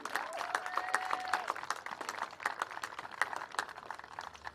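Crowd applause at a college softball game honoring the 2025 Husson senior class, steady scattered clapping from spectators over several seconds, moderately distant with some cheering mixed in.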